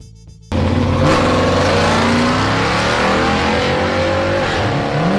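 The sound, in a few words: 1968 Chevrolet COPO Nova 427 V8 engine revving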